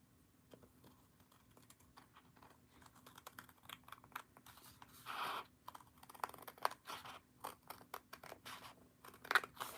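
Scissors trimming paper at a crafting table, faint close snips and rustles in an irregular scattered rhythm, quiet and without talk.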